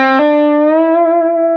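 Distorted electric guitar lick played loud and alone: a quick pick attack, then a sustained, slightly bent note ringing out for over a second.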